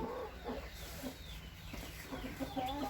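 Chickens in a village coop cluck faintly and intermittently, with soft, scattered calls against a quiet rural background.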